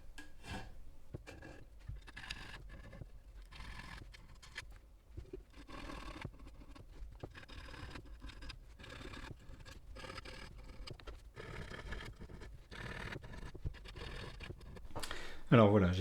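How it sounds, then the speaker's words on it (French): A file rubbing along the frets of a custom kit bass guitar neck, with rapid repeated rasping strokes at a steady rhythm, close and moderately loud, while a person talks over it. "avec la lime un petit peu plus grosse. Donc voilà, je continue sur toutes les frettes."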